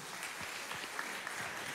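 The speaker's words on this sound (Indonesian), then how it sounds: "Tepuk tangan bagi Tuhan Yesus." A church congregation at a Pentecostal service claps together in steady, even applause that fills the room at moderate volume.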